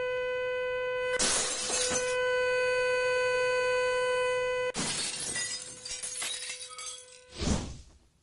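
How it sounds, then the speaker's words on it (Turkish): A wine glass shatters from sound vibrations, with a loud sustained pure tone ringing under bursts of breaking glass, followed by scattered clinks and tinkling debris. "Sesi açtığımda kadeh kırılacak."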